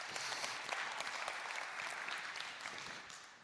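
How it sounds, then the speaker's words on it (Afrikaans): Church congregation applauding a group of musicians and lighting crew during a worship service, a steady dense wash of clapping that holds loud throughout and tapers slightly at the end. "Julle, kom ons gee hulle hande klap"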